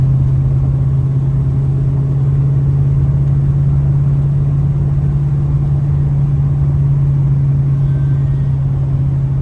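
A 1981 Chevrolet C10 Custom pickup cruising on the road, its engine holding a steady low drone with constant road rumble throughout, loud and close from inside the cab, with no distinct gear change and no talking.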